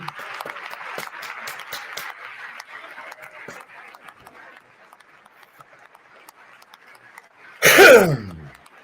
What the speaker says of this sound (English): Oh, gee, everybody clap